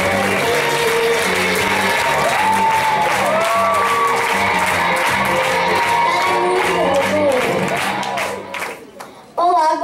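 Audience applause and cheering for a female contestant stepping onto a talent-show stage, a dense, loud crowd of clapping with whoops over music, fading out near the end.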